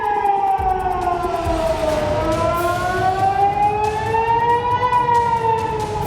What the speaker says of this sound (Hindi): इजराइल के करीब 80 शहरों में सायरन बजने लगे।